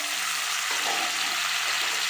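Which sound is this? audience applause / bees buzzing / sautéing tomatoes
sautéing tomatoes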